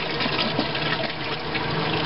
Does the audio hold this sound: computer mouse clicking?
no